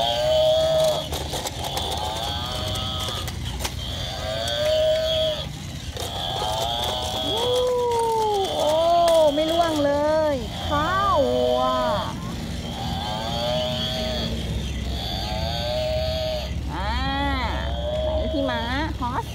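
Cartoonish cow moos in a Thai animal surf-and-skate game, several drawn-out rising and falling calls repeating over a continuous mechanical, ratcheting game background, loud and close.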